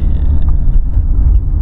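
A 1989 Chevy Corsica's engine rumbles low and steady from inside the car while driving, a continuous close drone with no talk.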